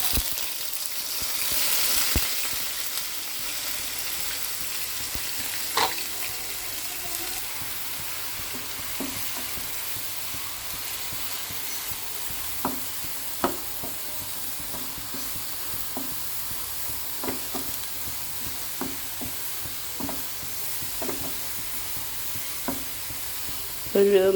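Chopped onion and chili fry in hot coconut oil with a constant sizzle, while a spoon stirs with repeated light scrapes and taps against the pan.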